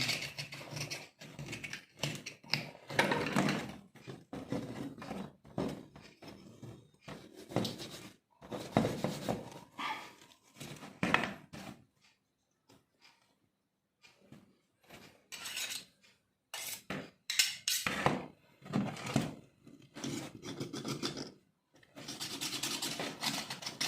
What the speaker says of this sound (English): we scrape the skin for removal of hairs and carbons and some dirt